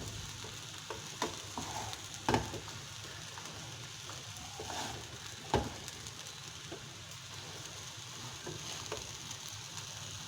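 Chicken fried rice stirred and fried in a pan: a continuous soft sizzle with occasional spoon knocks and scrapes against the pan, fairly faint and steady throughout, with no talking.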